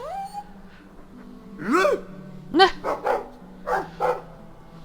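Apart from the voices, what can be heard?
dog whimpering and barking in video game Dragon Age II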